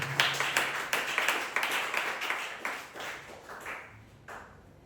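A church congregation claps along during a Tuesday worship service, giving a run of sharp, fairly quick claps that start strong and thin out toward the end, with the room's echo audible.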